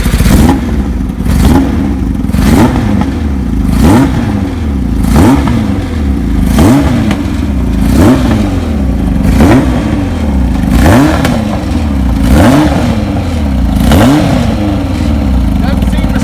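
A 1981 Kawasaki KZ1000J CSR motorcycle engine, running lean without air filters, blipped repeatedly in a steady rhythm of about a dozen revs rising and falling close by.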